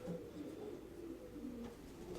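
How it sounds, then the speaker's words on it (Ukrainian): Pigeons cooing softly and continuously in a loft, a low, throaty, rolling murmur that stays faint and steady throughout, with no voices over it. "Ну, поки що будуть дві голубки, дві пари з новими голубками."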